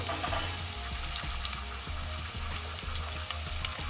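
Tilapia pieces fry in hot oil over medium heat, giving a steady, close sizzle with crackling pops throughout, alone with no voices.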